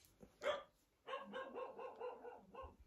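Dogs bark in a hallway behind a closed door, heard faint and muffled: one sharp bark, then a quick run of several rapid barks.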